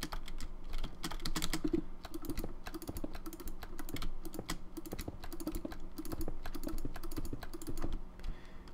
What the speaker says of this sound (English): my loud, obnoxiously loud, rather, mouse click, I apologize.